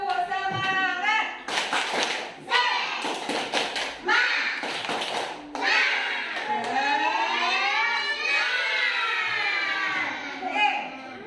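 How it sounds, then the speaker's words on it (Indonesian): A classroom of children performs a rhythmic spirit clap, sharp bursts of group clapping in short patterned groups mixed with loud children's chanting voices close by. "Tepuk semangat."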